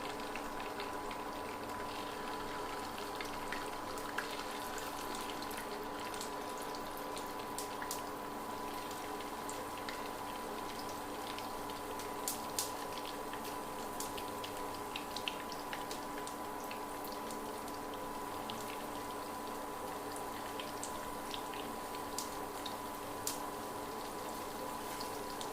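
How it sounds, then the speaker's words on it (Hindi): Pieces of carrot kala jamun fry in hot oil, giving a steady, dense sizzle with small crackling pops throughout, continuous and fairly close with no talking. "तो अब हम इसमें एक एक पीस डालना शुरू कर देते हैं।"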